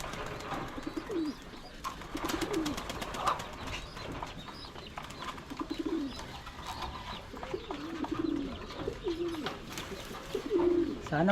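Racing pigeons coo repeatedly in soft rising-and-falling calls, with occasional wing flaps, around a loft during a derby race in Nueva Vizcaya, Philippines, amid a murmur of nearby voices.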